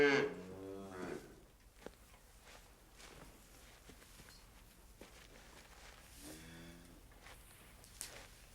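Cows moo loudly and close at the start, a long lowing call, then quieter farmyard sounds with a few soft steps before a second moo near the end.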